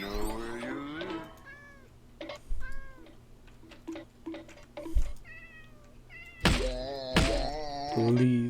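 A cat meows several times between soft thunks and ticks, with a couple of louder, longer cries near the end over a low steady hum.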